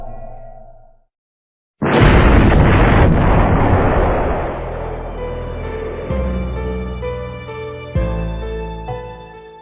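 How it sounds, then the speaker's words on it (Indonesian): A powerful bomb blast erupts suddenly after a short silence, a loud broadband roar with crackling debris that rumbles on and decays, followed by further heavy booming thuds. "Dua bom meledak dalam waktu yang hampir bersamaan"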